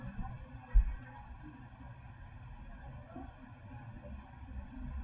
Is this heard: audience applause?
no